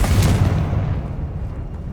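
A Confringo fire spell explodes in the video game Hogwarts Legacy: one heavy, deep blast at the start that rolls off into a long, fading rumble.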